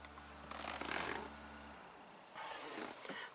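A Jeep Patriot's replacement ABS module pump runs with a low, steady mechanical hum for under two seconds, then stops. Faint outdoor noise with a few light rustles and knocks sits around it.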